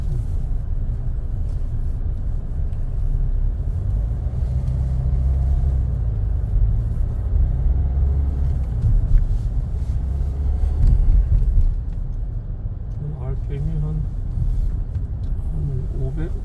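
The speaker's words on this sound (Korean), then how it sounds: "부드럽게 가속 잘 되고 차가 훨씬 가벼워진 느낌이야" A Hyundai Santa Fe fitted with a Cyclone7 device drives and accelerates, giving a continuous low road and engine rumble from inside the cabin. Faint talking sits underneath.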